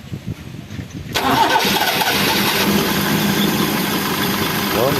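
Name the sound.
Toyota 3A engine starting after carburetor installation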